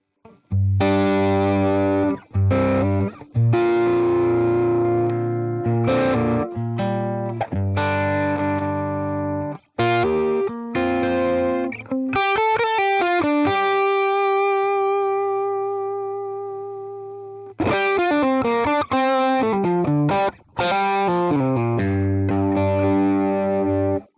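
Distorted electric guitar through a Fender Deluxe Reverb amp model in a Fractal unit plays chords and single-note runs with delay repeats and a reverberant tail, loud and close, with a sustained ringing note fading mid-way.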